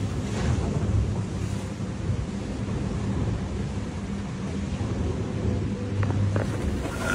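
Strong gusts near fifty knots roar steadily around a sailboat flying only a staysail at sea, a dense, loud wind rush with sea wash underneath and no speech.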